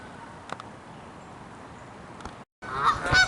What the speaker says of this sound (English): You can hear the geese are having a nice conversation.